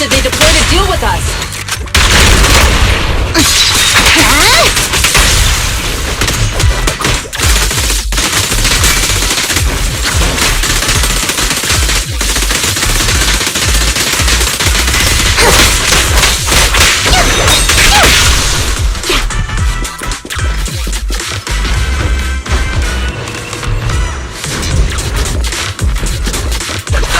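Rapid video game gunfire from an ambush in Zenless Zone Zero, with dense bursts, cracks and whooshes packed under continuous loud game music and effects across the whole stretch.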